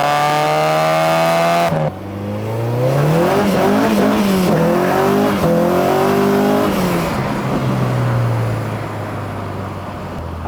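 A K-swapped car accelerates hard at full throttle, its loud engine climbing steeply through the revs, with a brief shift dip and another rising pull, then easing off and settling near the end.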